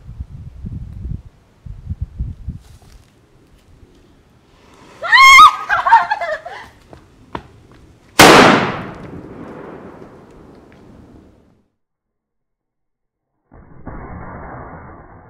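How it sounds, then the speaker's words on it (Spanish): A sharp firecracker bang rings out sharply after a crackling burst, followed by a fading rumble, with some rustling and handling noises around it. "Vamos a ponerle diferentes cohetes al lado y vamos a ver cuál le produce más daño"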